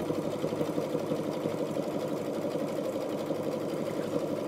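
Sewing machine stitching a fabric bread proofing bowl, a fast, even mechanical rattle that runs steadily and close without pause, with no talking.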